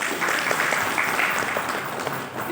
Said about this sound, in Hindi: आप अपने लिए एक जोरदार ताली,